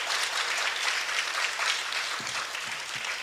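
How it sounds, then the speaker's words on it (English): Audience applause at a master class event, a dense steady wash of clapping filling the room at even loudness throughout, with no voices breaking through. "So can we give Tim an applause also"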